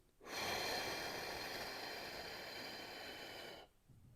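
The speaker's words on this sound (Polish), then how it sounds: "i wydech długi" A long, steady exhale through the mouth during a diaphragmatic breathing exercise: one close, airy rush of breath lasting about three seconds, heard alone, then fading to quiet.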